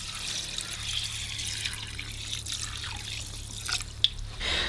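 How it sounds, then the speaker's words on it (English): Hot tap water pours over dry bean thread noodles in a bowl, a steady close trickle and splash with a few drips and a sharper splash near the end, no talking. "Go ahead and cover this with some hot tap water."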